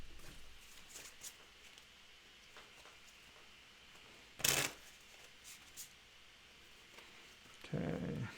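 Playing cards are shuffled by hand during a tabletop wargame, a soft run of riffling flicks and taps across the table, quiet and close, with one sharp louder burst midway and a rustling handling noise at the end.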